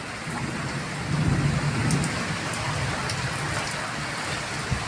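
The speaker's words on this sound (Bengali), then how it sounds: "দেখো কী অবস্থা, মেঘ ডাকছে, বিদ্যুৎ চমকাচ্ছে" Thunderstorm with steady rain pouring down and a deep rumble of thunder swelling near the start, the downpour continuing loud and even throughout with no voices.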